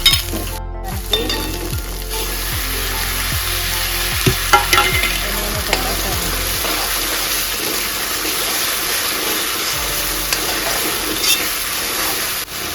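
Chopped onions sizzle steadily in a hot pan as they fry toward brown for a green corn curry, with repeated stirring scrapes and clinks early on, a close and constant frying hiss throughout, no voices.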